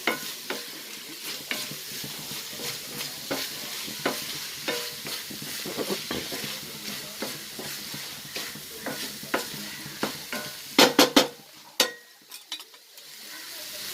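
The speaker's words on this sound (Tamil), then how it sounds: "ஒரு நாலு கிளறு கிளறி இறக்கிடலாம்" A banana flower stir-fry with coconut is stirred in a pan, a spoon scraping and tapping rhythmically over a soft sizzle, ending in a few louder clanks before it quiets.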